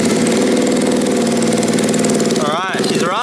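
A 125cc turbocharged go-kart engine with EFI runs loud and close, a fast buzzing idle that dips and flutters near the end.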